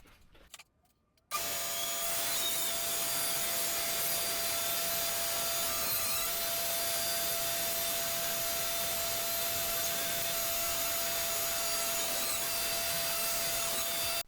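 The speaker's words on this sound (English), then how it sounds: "I am actually going to run this back over to my table saw and cut this to final dimensions" Table saw running and cutting pallet wood for a rustic cross, a loud continuous whine with a steady high tone after a short quiet start, held without a break to the end.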